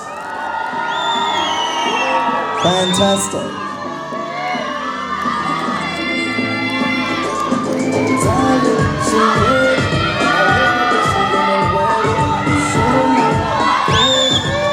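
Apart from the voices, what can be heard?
audience cheering at pageant finale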